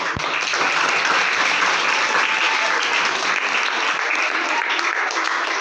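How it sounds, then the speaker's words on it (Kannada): An audience applauding Nagamma after a food preparation, dense sustained clapping from a crowd, loud and steady throughout. "ನಾಗಮ್ಮ ಅವರಿಗೆ ಮತ್ತೆ ಎಲ್ಲ ಚಪ್ಪಾಳೆ"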